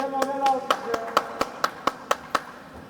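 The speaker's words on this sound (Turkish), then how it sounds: "Elif'e bir moral alkışı." About ten crisp, evenly spaced hand claps ring out close by during a lighthearted water challenge game, with a voice briefly heard at the start.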